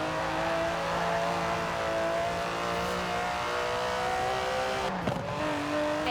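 An Aston Martin DB11's 5.2-litre twin-turbo V12 in Forza Horizon 4 holds a steady, droning engine note with layered tones, dipping briefly near the end before resuming.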